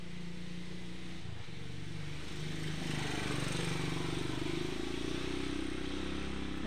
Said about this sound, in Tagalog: Pasensya na kayo sa ingay ng motor kasi may dumaang